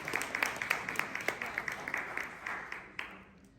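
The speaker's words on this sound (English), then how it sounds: "we can get a big round of applause" Scattered applause at a ward community meeting, with a handful of distinct, fairly close claps in a loose rhythm that thins out and fades toward the end.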